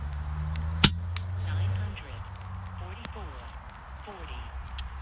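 A single sharp FX Crown MK2 air rifle shot cracks out near the start, a brief loud transient over a steady low hum of outdoor background noise.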